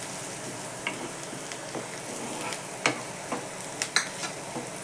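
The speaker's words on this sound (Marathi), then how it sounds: "कांदा घालते, कांदा थोडा लाल होऊ द्यायचा।" Onion frying in a pan alongside curry leaves for a home-cooked sandgе vegetable curry, a faint steady sizzle broken by a few soft crackles and stirring clicks, with no talking.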